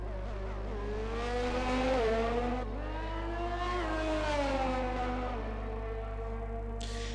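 Alfa Romeo race car from a racing video game on a long straight: a steady high-pitched engine whine climbing through the gears, with short dips at each shift, loud and continuous, heard alone.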